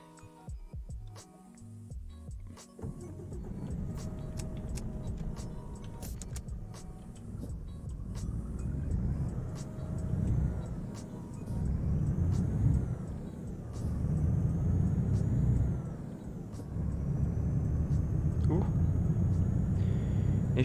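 A car accelerating onto a motorway in a PC driving video game, a loud droning engine that rises and falls in pitch through gear changes, with someone talking over it.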